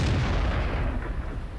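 Artillery shell striking a tank in the online game World of Tanks, a heavy, dense booming blast that fills the short clip at steady loudness with a rumbling low end.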